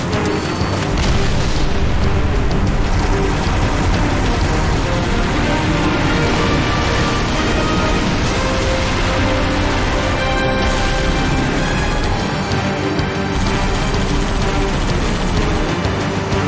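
A pylon explodes in Halo: Reach with a massive, sustained booming roar that rumbles loudly and continuously for many seconds, full-range and dense.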